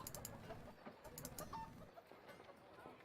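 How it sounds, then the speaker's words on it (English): Chickens cluck softly in a medieval fantasy role-playing game, a few short faint calls over low background noise. "I hear chickens."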